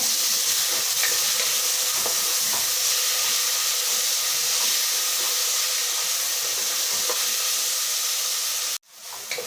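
Chopped medium-sized tomatoes sizzle in a hot pan while a mutton head gravy is cooked, a steady loud frying hiss with faint crackles throughout, ending in a sudden clatter.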